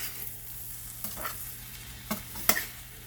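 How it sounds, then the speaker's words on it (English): Fried rice with Gold Mountain seasoning being stirred in a hot pan: a soft, steady sizzle runs underneath while a few spatula scrapes and clacks land at irregular moments, close and fairly quiet. "I'm just gonna stir it up really good."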